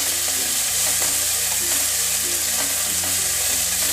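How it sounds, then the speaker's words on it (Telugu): Green chilies and coriander leaves with stems sizzle steadily in hot oil for a tomato coriander chutney, a dense close frying hiss with faint stirring ticks and no talk. "ఈ పచ్చిమిర్చి ఇలా వేగిన తర్వాత ఈ కొత్తిమీర కూడా వేసుకొని వేయించుకోవాలి"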